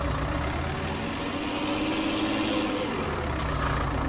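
A Ford TW 35 tractor with front and wheel weights pulls a plough across a field, its heavy diesel engine droning in a steady, loud, unbroken low rumble.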